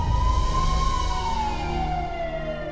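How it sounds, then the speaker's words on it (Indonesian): An ambulance siren wails loud and close in a long, steady, slowly falling tone, gradually easing off across the stretch, with no talk over it. "Tuh, ambulannya."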